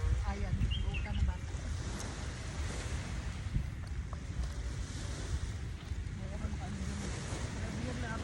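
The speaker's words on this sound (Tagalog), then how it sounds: "Diri na po ta sa dagat." Sea waves wash in at the beach, a steady close surf rush mixed with wind noise, while people's voices come and go faintly underneath.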